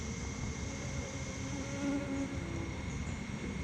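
Saskatraz honeybees hum around their hives in a steady, soft buzzing drone that carries on continuously with no voices.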